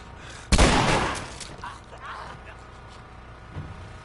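A single loud gunshot in The Last of Us, fired at an infected clicker, booms up close and decays over about a second, followed by quieter game noises and a faint later thump.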